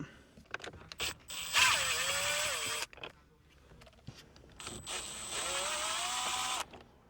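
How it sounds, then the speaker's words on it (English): A power screwdriver whirs in two sustained bursts, each lasting over a second, while removing screws from the infotainment trim of a Nissan Z, with small clicks and handling noises between them, close and fairly quiet. "We can see that there are 2 screws right here. We're going to pop those screws out."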